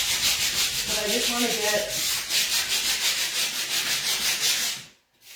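A Surf Prep sanding pad rubs over painted surface in a steady, rhythmic rasping scrub that continues close-up before stopping abruptly, with a brief spoken phrase.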